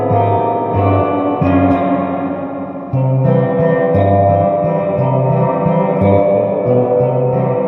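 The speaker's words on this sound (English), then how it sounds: "That's some serious reverb." Guitar played through a Fender Blues Deluxe amp with its reverb turned all the way up, chords and notes smearing into a long washy tail that blends each change into the next, steady and loud with no voices.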